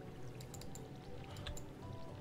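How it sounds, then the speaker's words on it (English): Water splashing and pattering from a watering can over crop plots in a farming video game, several short pouring bursts over a steady low hum of background music. "Just water everything."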